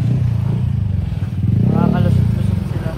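Motorcycles moving through slow traffic near a crowded concert walkway in the Philippines, a steady engine drone and rumble with a rising rev near the middle, heard close and loud with people talking over it.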